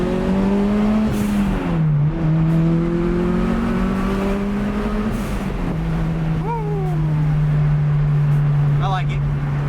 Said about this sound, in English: You can hear a lot more the turbo blow-off valve.